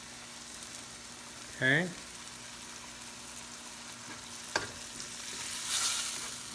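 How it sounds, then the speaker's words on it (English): Shrimp sizzle and hiss in a pan as tomato sauce is poured in for spicy tomato garlic shrimp, a soft, steady frying crackle with a brief clink, a swell of louder sizzling near the end, and a short spoken word early on. "Now we'll add our tomato sauce."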